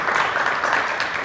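An audience at a panel session claps briefly, a dense wash of hands close by with no speech over it.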